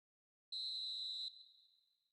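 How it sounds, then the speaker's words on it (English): One long, shrill referee's whistle blast in the video game FIFA Online 4 marks the end of the match, holding steady for under a second before fading out with a ringing tail. "And there goes the final whistle."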